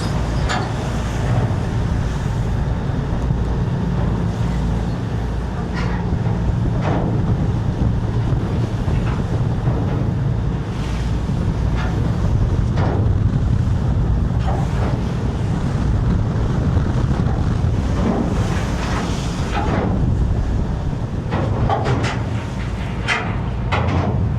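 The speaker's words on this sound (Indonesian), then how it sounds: "Anginnya kuat dari arah timur ini." Strong easterly wind buffets a boat at sea on the Java Sea in bad weather, a continuous loud roar with rushing waves and gusty microphone rumble throughout, no voices.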